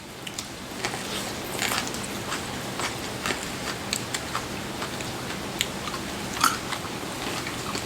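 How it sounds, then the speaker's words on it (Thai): Someone eats som tam (papaya salad) up close, with repeated crisp bites and moist chewing over a steady soft background hiss. No one speaks. "บนโต๊ะนั่งกินส้มตำ"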